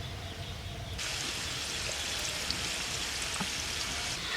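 Potatoes fry in oil. A soft background gives way abruptly to a steady, bright sizzle that continues evenly close by, with a few faint pops and no voices.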